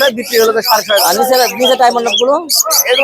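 Budgerigars chirp at a busy bird market stall in Tongi bazaar, their quick high tweets scattered over nearly continuous nearby human talk.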